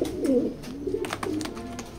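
Racing pigeons kept for sale coo softly and steadily for a couple of seconds, a low, throaty murmur heard close by with no voices over it.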